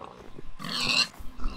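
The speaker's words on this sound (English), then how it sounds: "Wait, here's a whole bunch of pigs." Pigs in the Minecraft video game oink in a short burst of grunting squeals. The burst is fairly clear over faint background noise.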